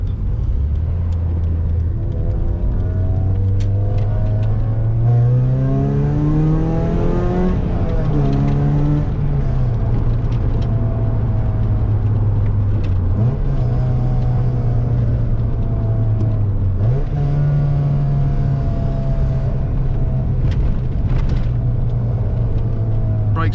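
A car with a V6 engine, no turbo or supercharger, pulls steadily down a small road, its engine droning and rising through the gears with clear shifts, loud and close from inside the cabin.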